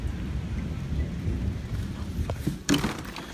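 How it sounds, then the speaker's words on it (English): A burst of thunder during an October storm, a low rumble under steady rain that swells into a louder crack and roll near the end, no voices. "I'm letting y'all hear a good burst of thunder here."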